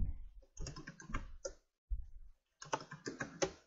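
Typing on a computer keyboard while entering a product name, heard as clustered bursts of key presses separated by short pauses, fairly close and clear.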